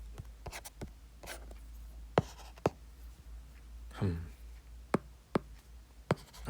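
A pen scratches across paper in short strokes with sharp taps between them, close and quiet; a brief low murmur sits in the middle.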